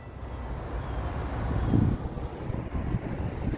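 A Florida East Coast Railway locomotive engine throttles up, a low diesel rumble that swells to a peak midway and then holds at a steady drone, with no voices.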